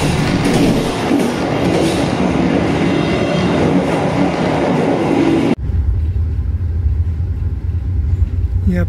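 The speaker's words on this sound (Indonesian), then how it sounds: "di jalur 4 stasiun Jati Barang itu adalah kereta api Gajah Wong" A diesel locomotive hauling the Gajah Wong passenger train rumbles past close by at Jatibarang station, a loud continuous roar with rattling wheels that cuts off abruptly to a quieter, steady mechanical hum.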